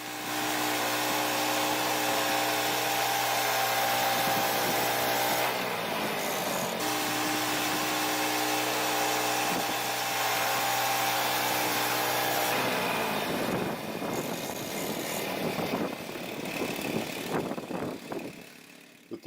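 Sawmill cutting a big log into 2x10 boards, a loud continuous engine drone with a blade whine that holds steady, then a rougher, shifting cutting noise toward the end.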